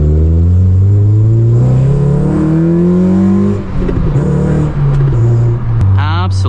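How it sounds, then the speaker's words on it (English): A 9th-generation Honda Civic Si floored at full throttle through a neighborhood, its engine note climbing steadily in pitch as it revs hard and loud, with a brief dip before pulling again, under someone talking over it. "I was just flooring my car in this neighborhood."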